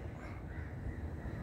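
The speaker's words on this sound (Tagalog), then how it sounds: "Ayan, nagliliparan na itong mga uwak." Crows calling as they fly over a rooftop at sunset, a steady low murmur of outdoor background filling the short stretch with no voices.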